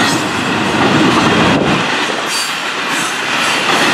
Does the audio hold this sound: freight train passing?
yes